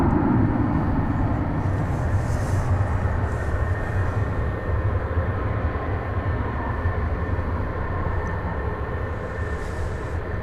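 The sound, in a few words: American Airlines plane taking off at DFW Airport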